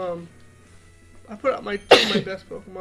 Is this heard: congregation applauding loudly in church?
no